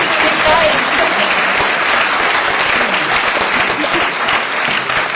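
Sustained audience applause fills a lecture hall at a gala film lecture, a dense, loud wash of clapping running steadily throughout without pause.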